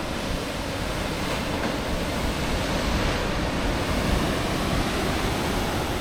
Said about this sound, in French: les rouleaux sont énormes